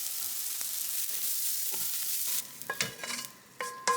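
Eggplant frying in a little oil with pepper in a pan, a steady close sizzle with occasional stirring clatter and sharp utensil taps toward the end.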